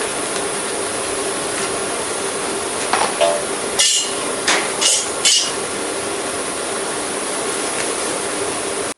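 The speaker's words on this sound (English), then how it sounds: "With rhythmic taps of a hammer and drift pin, she seats the bearing into the tube." A few sharp metallic taps of a hammer on a drift pin, seating a bearing into square steel tubing, ring out in a short cluster over a steady background hiss, then the hiss continues alone.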